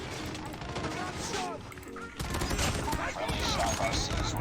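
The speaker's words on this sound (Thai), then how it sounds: "โดนป้อมปืนยิงฮะไม่เป็นไรนะ" Turret gunfire in Call of Duty Mobile comes as rapid, dense bursts of shots, loud and close, mixed with other game effects while a player talks over the action.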